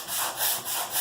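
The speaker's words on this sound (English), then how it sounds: "So you want to take a sanding block and just lightly sand it." A sanding block rubbed lightly over dried putty patching a damaged wall, giving a short rasping scrape in a few quick back-and-forth strokes, close and distinct.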